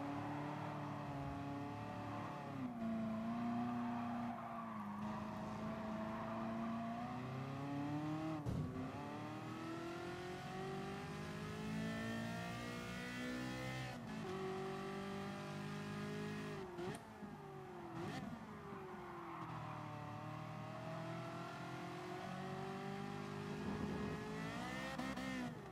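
A Ford Raptor in a Gran Turismo Sport race at the Nürburgring GP, its engine droning steadily and rising and falling in pitch through gear changes and corners, with brief tire squeals, heard alone without talk.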